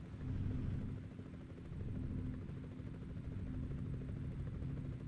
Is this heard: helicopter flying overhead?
yes